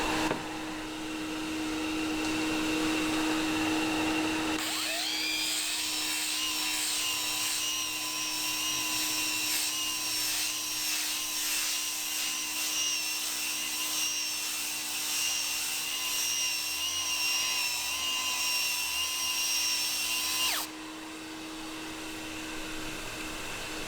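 A dust collector switching on to draw up Corian solid surface dust with strong suction, a loud steady whine and rush of air lasting about sixteen seconds over a constant low hum, then cutting off.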